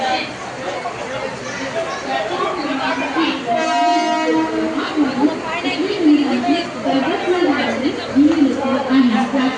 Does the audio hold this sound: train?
yes